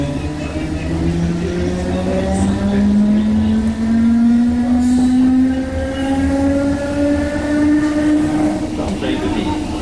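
A train runs on a railway line in Ireland, its motor whine rising steadily in pitch as it accelerates, loud and continuous with an even rumble beneath.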